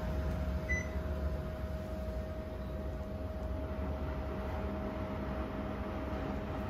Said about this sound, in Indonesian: coba kita nyalain AC-nya pakai remote WKJ.